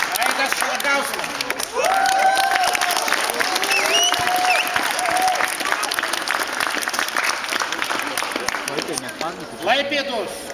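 Sustained audience applause at a youth mini-football award ceremony for players born in 2001, steady loud clapping filling the room from start to finish with an announcer's voice and a few whistles heard over it.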